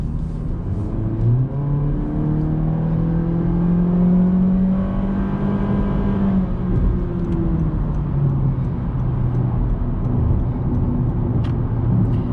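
A 2022 Honda Civic LX with the 2.0-liter four-cylinder in sport mode accelerates onto a highway, steady engine drone rising and falling in pitch through gear changes over road and cabin noise.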